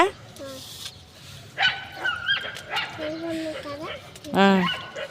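A puppy being fed rice gives a series of close yips, whines and small barks, and people talk around it.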